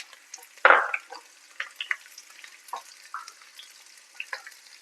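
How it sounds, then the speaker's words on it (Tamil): Garlic, slit dried red chillies and curry leaves sauté in oil, giving sparse crackles and pops with a sharp spatter near the start and quieter stirring sizzles after. "கொஞ்சமா கருவேப்பிலை எல்லாத்தையும் சேர்த்து நல்லா வதக்கி எடுத்துக்கலாம்"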